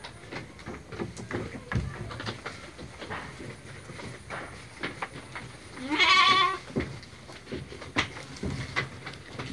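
A Garut sheep bleats once in a pen, a short, clear, wavering cry standing out midway through a noisy stretch of rustling, thumps and faint background voices.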